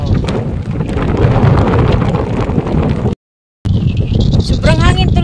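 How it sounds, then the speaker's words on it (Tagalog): Strong wind at Kota Beach on Bantayan Island batters the microphone with loud, continuous buffeting roar and a brief dropout, while people talk faintly underneath. "Sobrang hangin tuloy, no?"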